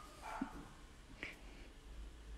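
Dogs bark faintly in the background during a live stream of stencil painting on a tea towel, two or three distant yips and barks over quiet room noise.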